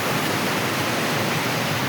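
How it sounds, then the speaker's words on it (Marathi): A large monsoon waterfall near the Mahad Buddhist caves, heard as a loud, steady broadband rush of falling water with no pauses, close and alone. "आणि हा बघा किती मोठा धबधबा, हा बघा किती मोठा आहे."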